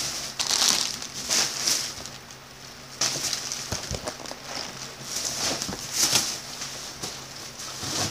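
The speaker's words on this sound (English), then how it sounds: "Sorry for the rustling" A plastic bag crinkles and crunches up close in uneven bursts, with occasional sharper crackles and no talking.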